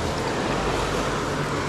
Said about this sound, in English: with every wave, it seems like something new is washing in from the water